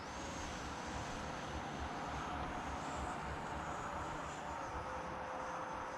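A Freewing Yak 130 model jet with a 70mm electric ducted fan flies overhead, giving a steady, loud airy whine and rushing roar that holds level for the whole stretch, with no talk over it.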